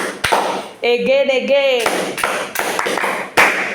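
A class claps for itself in a short burst of hand claps and taps, while a voice speaks over the clapping.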